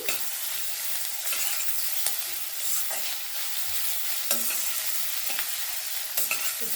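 Onions fry in a pan over low gas and are stirred, giving a soft continuous sizzle with periodic scraping stirs and small clicks, no talking.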